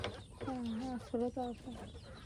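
A hen on a village farm clucks up close, one drawn-out call followed by two short ones, against a low ambient hum with people talking nearby.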